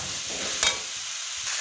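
Cauliflower pieces being stir-fried in a cooked-down spice paste in a pan: a soft, steady sizzle with a brief scraping stir near the middle, quiet and close, with no voices.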